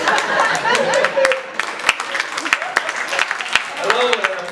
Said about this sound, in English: an applause for alcoholism